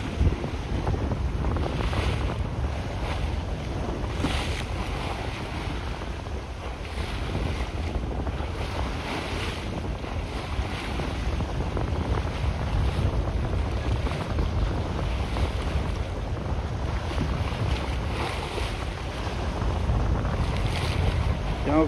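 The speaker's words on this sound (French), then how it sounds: "Ah, on a assez de vent pour avancer." A sailboat moves under a steady force 3 to 5 wind, with constant wind rush buffeting the microphone and waves washing against the hull in soft recurring swells, no voices.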